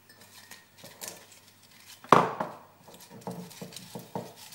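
Homemade potato chips, salted, are tossed in a bowl: a sharp crisp clatter and rustle near the middle, followed by lighter scattered crunches and clinks, close and otherwise quiet.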